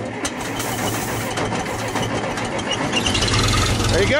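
Engine turned over with the key and starting, a dense mechanical churning that settles into a steadier low running rumble near the end, close and fairly loud, with voices speaking faintly underneath.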